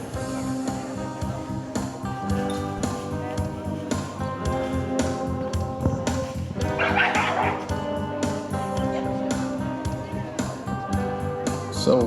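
Several dogs bark, yip and whimper repeatedly and close by at a horse presentation event, with yelps piling over one another and people talking underneath.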